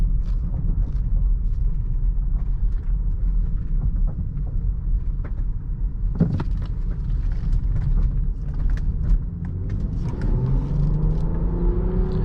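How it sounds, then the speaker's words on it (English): A 2018 BMW X5 xDrive35i SUV engine rumbles steadily from inside the cabin, its pitch climbing toward the end as it accelerates along the road. "Engine has a nice sound to it."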